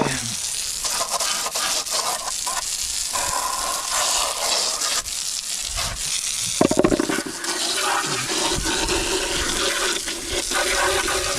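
Strong water spray hisses continuously against a throttle body intake being cleaned at its strongest setting, a loud, steady rush with brief splashing surges.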